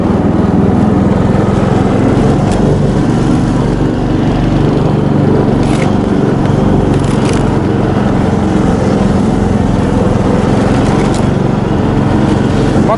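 A motorized snow tow, a motosobaka, drives along in stormy winter weather, its small engine droning loudly and steadily without a break, close to the microphone.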